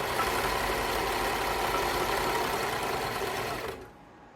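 A sewing machine stitching a box stitch runs in a fast, steady whir for nearly four seconds, then stops abruptly, leaving only quiet room tone and no talking.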